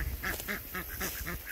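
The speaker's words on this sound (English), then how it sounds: "What kind of ducks don't like a pond?" Pet ducks by a backyard pond quack loudly and close, a rapid run of about six harsh calls in steady rhythm with no talking over them.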